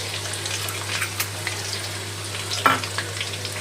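Chopped onions, added after minced ginger and garlic, frying in hot oil in a pan, a steady close sizzle with a few soft stirring clicks and no talking.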